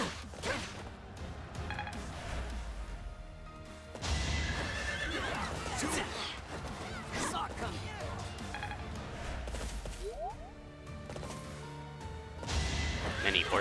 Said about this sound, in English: Many horses today.